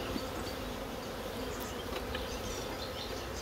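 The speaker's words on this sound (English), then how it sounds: "there's flying bees in here" Honey bees buzz in a dense, steady drone around an open hive, the swarm close and continuous without a break.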